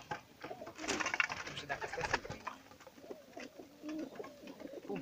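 A large pied domestic pigeon cooing nearby, soft low rolling coos repeating over several seconds, with a brief burst of handling noise and faint speech early on.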